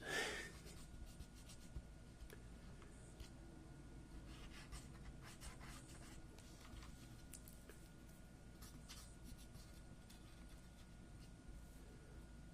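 Q-tips rubbed and scraped between keyboard keys make close, quiet scratchy strokes and soft clicks in an irregular rhythm, very faint and intimate.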